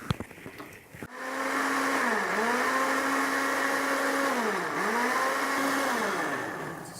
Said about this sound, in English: As the oil heats up, we need to blend these fresh tomatoes